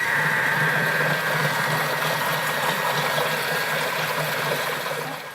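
A Thermomix food processor runs at speed 4 set to 80 degrees while making gingerbread, giving a steady, loud whirring motor drone with a broad hiss that holds evenly and fades slightly at the end, with no talk.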